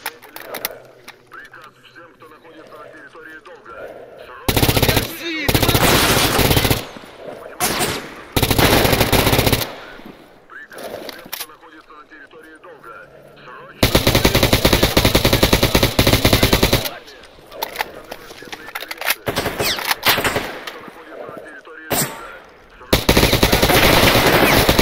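Video game machine gun fire in long, loud sustained bursts broken by quieter gaps, with a player talking in between.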